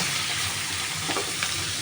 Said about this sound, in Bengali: দু তিন মিনিট এতে একটু ভাজা ভাজা করে নিচ্ছি ক্যাপসিকামগুলো